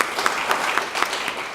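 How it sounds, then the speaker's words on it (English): An audience at a Chamber of Commerce installation ceremony claps warmly in a steady, moderately loud round of applause. "We can applaud for that."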